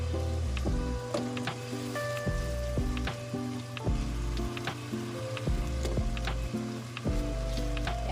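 Potatoes fry in a pan as the first step of a beef kaldereta, giving a steady close sizzle scattered with small crackles and pops, without any talking.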